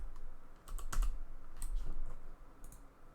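Short bursts of keystrokes on a computer keyboard while typing code for a LeetCode problem, soft and close over a low background hum, with no speech.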